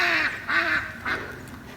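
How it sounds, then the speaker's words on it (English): Ducks at Dewey Lake in Jenny Wiley State Park, Kentucky, give three loud, close quacks in a row, each nasal call separated by a short pause, with no talk. "We've got some ducks."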